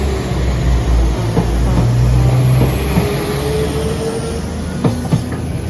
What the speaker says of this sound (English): the 12:30 Northern train service to Lincoln Central